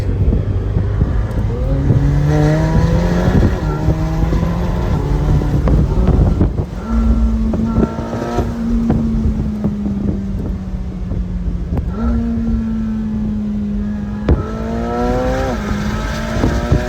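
McLaren 720S Spider engine driven on a road, revving through gears with rising and falling pitch sweeps, loud and close with wind noise; the exhaust crackles and pops only faintly, not clearly separated from the engine roar.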